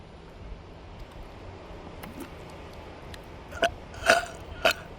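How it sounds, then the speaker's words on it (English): A few short burps after drinking sparkling water, three brief bursts near the end over a quiet outdoor background with soft wind, no talking. "it makes you burp."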